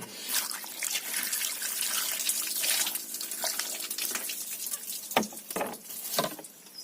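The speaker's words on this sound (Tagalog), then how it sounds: "Hugasan natin." Tap water runs and splashes into a sink while a pandawan fish is rinsed after gutting, with irregular patters and sharp drips as the stream hits the fish and basin, close and fairly quiet.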